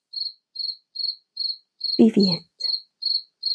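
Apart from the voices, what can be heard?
cricket chirping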